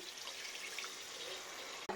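Water poured into a fish curry cooking on the stove, a steady splashing, trickling wash that runs throughout and ends with a short knock.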